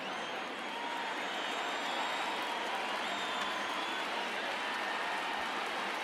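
A stadium crowd of more than 31,000 cheering in the baseball video game MLB The Show 19, a dense, sustained roar and applause that holds steady and loud throughout.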